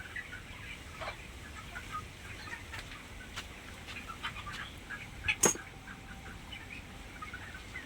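Broiler chickens, about eighteen days old, in a poultry shed cooled by sprinklers and ceiling fans, giving scattered faint clucks and chirps over a steady low hum, with one brief louder burst near the end.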